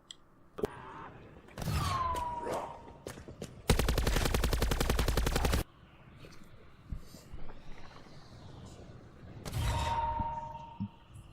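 Gunfire in the Ancient Evil zombies map of a video game, with single sharp shots, a sustained rapid automatic burst, and other game effects and whooshes around them.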